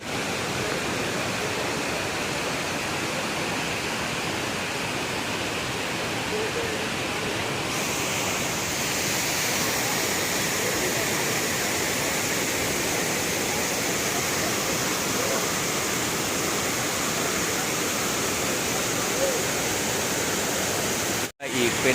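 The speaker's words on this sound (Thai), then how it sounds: "ชั้นตรงกลางของน้ำตกนะครับ" Steady roaring rush of falling water at the Tad Kuang Si waterfall near Luang Prabang, Laos, broadband and constant throughout, with a brief clunk near the end.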